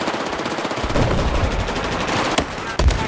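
Automatic gunfire in Battlefield 4 on the Flood Zone map, a rapid rattling stream of shots up close with a couple of sharper louder cracks near the end.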